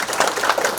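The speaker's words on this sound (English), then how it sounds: "If you could give them a round of applause right now." Brief burst of audience applause at a Mississippi culture event for two award-winning writers, a dense wash of many hands clapping at once.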